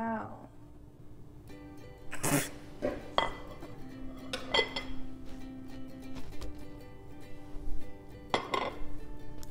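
Cream cheese and butter being creamed together in a mixing bowl, with utensil clinks and scrapes against the bowl coming in irregular bursts over a steady background hum.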